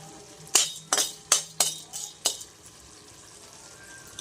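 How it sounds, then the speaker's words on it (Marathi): Whole cardamom pods dry-roasted and stirred in a pan at home, giving six sharp scraping clinks roughly every third of a second over a quiet background, then the kitchen falls nearly silent. "वेलदोडे पण आपण याच्यातच भाजून यायचे"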